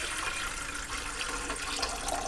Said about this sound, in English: I have some fairly warm water in there